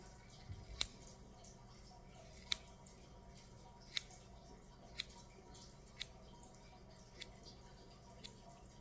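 Scissors snipping hair during a home haircut, about seven or eight sharp, quiet, close clicks spaced roughly a second apart over a soft room hush.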